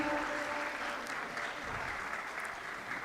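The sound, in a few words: audience applause for the keynote speaker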